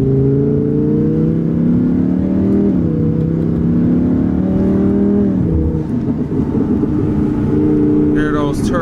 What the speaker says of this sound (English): Hear those turbos.